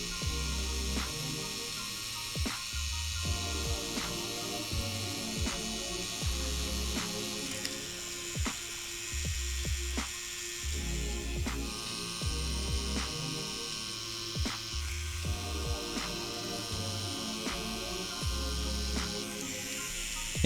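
A tattoo machine fitted with a 9 Magnum soft edge needle buzzes steadily on skin, a continuous close electric drone with a regular pulsing hum and repeated faint clicks, no voices.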